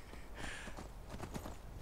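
Horse hooves clip-clop steadily while riding in Skyrim, a quick rhythmic patter of steps carrying on under faint background sound, close and moderately loud.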